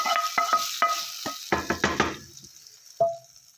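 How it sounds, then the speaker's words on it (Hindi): Hot tadka tempering poured into simmering chana dal on a lit stove, giving a burst of sizzling and clattering pot and spoon knocks in quick succession, then a fading hiss and one last sharp sizzle, close and fairly loud. "तड़का हम इस तरह से अपनी दाल में शामिल कर देंगे।"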